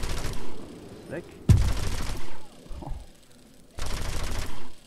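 Gunfire in the War Thunder video game comes in three loud, dense bursts of rapid shots separated by short pauses, with a brief spoken word between them.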